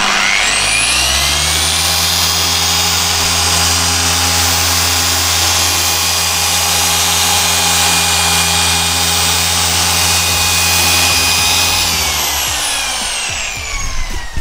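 A car polisher fitted with a large pad works the paintwork and edges of a grey Audi S5, a loud steady electric motor whine held for about twelve seconds before spinning down, close up with no talking.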